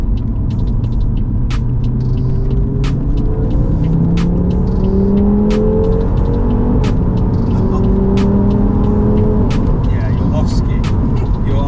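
A 460 bhp stage 2 Audi RS3 8P quattro pulls hard through the gears on the road. The engine note climbs steadily and loudly, with rising revs heard from inside the car. A voice speaks over the engine.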